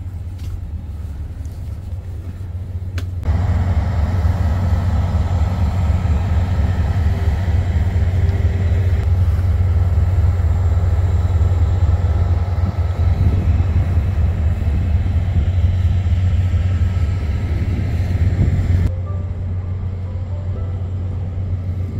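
The Baekdudaegan tourist train passes at a rural station with a loud, sustained low rumble and steady mechanical drone for about fifteen seconds before cutting off abruptly.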